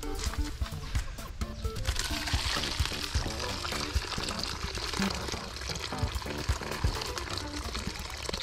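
Melted beeswax is poured into water below it, giving a steady liquid splashing and trickling sound that runs throughout at a fairly close but modest level.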